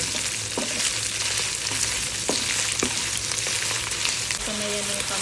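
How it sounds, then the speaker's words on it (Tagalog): Meat sizzles and fries steadily in hot oil with garlic in a pan, a loud continuous hiss broken by a few sharp clinks of a utensil stirring against the pan. "ginisa ko lang ito sa mantika na may garlic"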